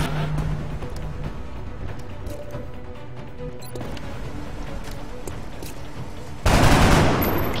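Gunshots crack in the XCOM: Long War video game as a steady fusillade over a battle ambience, with a louder burst of fire near the end.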